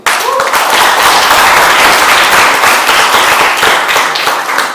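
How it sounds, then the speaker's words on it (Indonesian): Audience applause fills an Indonesian constitutional debate competition hall after both teams finish, a dense, steady wash of many hands clapping with a faint voice briefly over the start. "Beri aplaus dulu kepada kedua tim."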